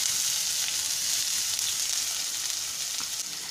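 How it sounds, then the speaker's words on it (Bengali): Onions frying in white oil in a wok on a gas stove, a steady bright sizzle heard close and alone, continuous with no pauses. "দিয়ে একটু পেঁয়াজটা ভাজবো।"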